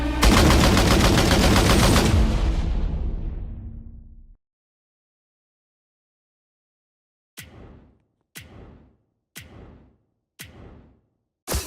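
Gunfire in a zombie shooter video game: a long, dense roar of automatic fire that fades out, a few seconds of silence, then five sharp single shots evenly spaced, loud and close.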